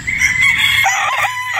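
A Sweater x Boston gamefowl rooster gives one loud, close, drawn-out crow that fills the whole moment, rising and then trailing off, with no voices over it.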